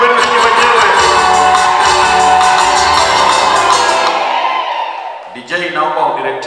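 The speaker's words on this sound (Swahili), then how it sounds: "Makofi na vigelegele kwenu wenyewe." Wedding guests burst into loud, sustained applause mixed with high trilling ululation filling a crowded hall, continuous for several seconds before tapering off as a voice begins speaking at the end.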